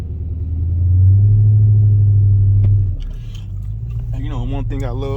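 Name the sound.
Dodge Magnum SRT8 engine revving, not moving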